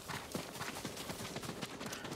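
Horse hooves clip-clop at a steady trot in Ghost of Tsushima, a quick, even rhythm of soft thuds at moderate distance, with no speech over them.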